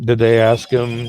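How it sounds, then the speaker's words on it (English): A mobile phone rings with a tonal, melodic ringtone that sounds steadily beneath a person talking, pausing briefly before resuming. "Sorry about my phone there."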